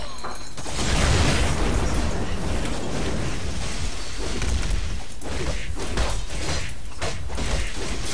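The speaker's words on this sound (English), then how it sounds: "I'm grenading these guys. Grenades everywhere. Everyone's getting blown up." Grenade blasts in the action game Marvel Heroes, a dense run of booming explosions and mechanical clatter that stays loud for several seconds without a clear break.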